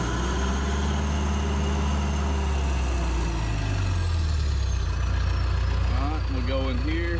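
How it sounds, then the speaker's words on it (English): John Deere 450J dozer diesel engine slowly revving up, a deep rumble whose pitch climbs gradually, close and loud, with a faint whine above. "Listen to the RPMs, how slow they are to come up."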